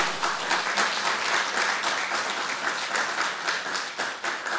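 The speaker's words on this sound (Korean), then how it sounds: "이런 학생들한테 박수 한번 쳐야 되는 거 아닙니까?" Church congregation applauding students at a family worship service, a steady dense wash of many hands clapping that carries evenly throughout with no voices over it.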